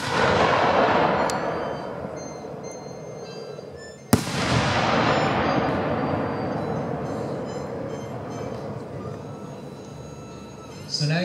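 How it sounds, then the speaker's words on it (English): A 6-inch Pixie Dust Willow firework shell bursts with a sharp, loud crack midway, followed by a long crackling, hissing shower that slowly fades, set against steady rumbling background noise from a crowd or wind. "So now we'll shoot a 6-inch Pixie Dust Willow."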